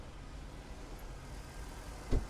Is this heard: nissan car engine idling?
yes